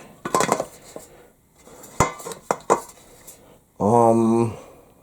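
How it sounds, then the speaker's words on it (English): A metal grease pan rattles and clanks as it is fitted onto a George Foreman GGR50 grill, giving several sharp close knocks followed by a sustained ringing metallic scrape. "grease pan goes over here"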